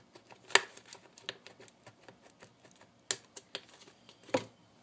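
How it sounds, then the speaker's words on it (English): A knife scratches and clicks around an aluminum pop can in a quiet series of irregular small taps and scrapes, a few louder snaps standing out, no talking. "I just want to cut all the way around this can right there."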